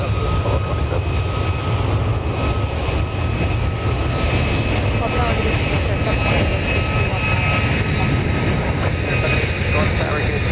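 Airliner rolling down runway 31 right for takeoff at Dallas Love Field on a December evening, giving a steady, loud broadband engine roar that holds for the full length, with voices talking underneath.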